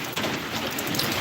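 Heavy rain pours at night in a constant loud hiss of drops hitting surfaces, with a low rumbling undertone throughout and no voices.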